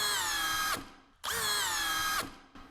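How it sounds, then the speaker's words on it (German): A power drill in second gear, spinning fast, drives a screw into wood in two whining bursts. Each burst dips in pitch and cuts off before the screw head is pulled into the wood. "er dreht viel schneller, aber er hört viel früher auf, weil er nicht mehr die Kraft hat, diesen Kopf hier ins Holz reinzuziehen"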